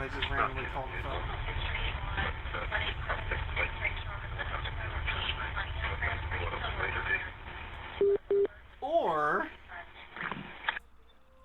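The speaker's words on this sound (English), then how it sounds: "There's a lot of static and a quiet male voice seems to say something a few times, but then the call just goes silent." Continuous static hiss on a recorded phone call, with faint voice-like murmurs inside the noise, then tonal beeps and warbling electronic sounds before it cuts out.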